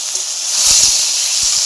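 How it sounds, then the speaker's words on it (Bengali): Potatoes frying in a pan with poppy seeds give off a steady, close hiss, with a few soft low thumps scattered through it. "আমি আলু ভাজা করছি"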